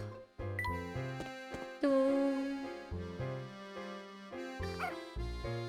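Synthesized dog barks and yips from the game Professor Layton and the Curious Village ring out over a bright, plinking musical tune, several short barks in a row.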